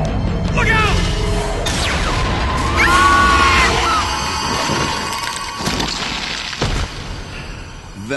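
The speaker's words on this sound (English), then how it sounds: "Vampire plasma cannon." A vampire plasma cannon fires in a sci-fi animated episode, giving sweeping electronic whines and tones, then sharp crashing bangs and impacts, loud and close, with yelling and voices mixed in.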